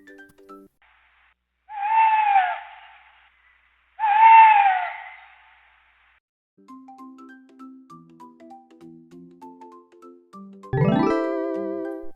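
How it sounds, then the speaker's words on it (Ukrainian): Two hollow, owl-like hoots sound about two seconds apart, used as the answer in a children's riddle game. Soft tonal notes follow, then a bright chime-like jingle rings out at the end. "Сова."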